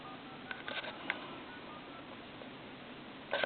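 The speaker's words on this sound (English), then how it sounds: "Then we'll hit redial." A Crosley 354 reproduction wall telephone redials, sending a quick run of faint touch-tone beeps over a hissy line, then a short final burst of tones near the end.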